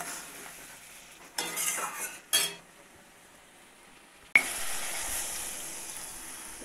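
Cauliflower and potato pieces are stir-fried with tomato and spices in a pan. A spoon scrapes and stirs, with two short louder bursts of sizzling and clatter and a sustained sizzle in the later part.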